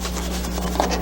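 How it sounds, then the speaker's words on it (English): A balloon being rubbed to give it a static charge, heard as a short, close, steady scratchy friction sound over a low constant hum. "So now I'm going to rub the balloon and charge it up with lots of negative charges."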